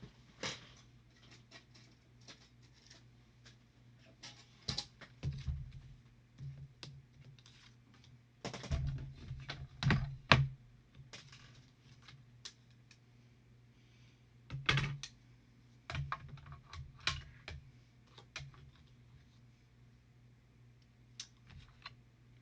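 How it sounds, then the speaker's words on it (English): A mini die cutting machine cranks paper through its plates, giving irregular mechanical clicks, creaks and rattling bursts with quiet gaps between, close by and fairly faint. "I'm just going to use my mini to die cut this."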